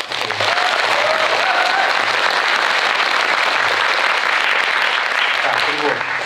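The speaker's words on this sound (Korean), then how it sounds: "만족감이 크게 드셨다면 큰 박수." Sustained, dense applause from a film screening audience fills the hall after a question to the crowd, steady and loud throughout with faint voices mixed in.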